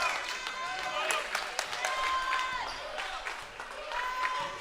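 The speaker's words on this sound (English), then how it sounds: "For a small crowd, it's starting to get loud in here" Small crowd in a high school basketball gym grows noisy with cheers and scattered claps, while sneaker squeaks and a commentator's voice run over it.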